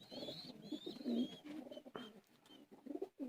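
Teddy pigeons coo close by in soft, low repeated calls, with faint higher chirps in the background and no talking.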